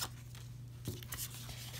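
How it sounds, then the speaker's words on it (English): Child's scissors snipping through paper up close, a few quick crisp cuts clustered near the middle, over a steady low hum with no talking. "I'm gonna use my son's scissors here. Let's just cut them up."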